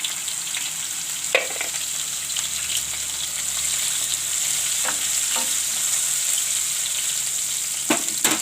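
Ginger, asafoetida and red chili sizzle steadily in hot oil in a pan, a fairly faint continuous hiss broken by a few stirring clinks, with no talking.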